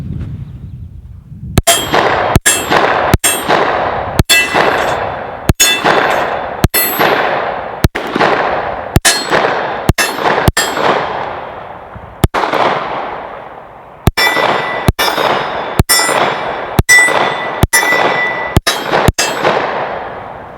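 Kimber KDS9C 9mm pistol fired outdoors, about sixteen sharp loud shots in an irregular steady pace with a short pause midway, each crack ringing off with a metallic decay, no talking.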